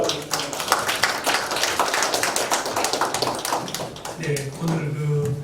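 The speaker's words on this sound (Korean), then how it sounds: "우리 박수로 한번." A church forum audience at a missions gathering claps together in a quick burst, dense hand claps at close range, thinning after about four seconds as a voice starts speaking over the last of it.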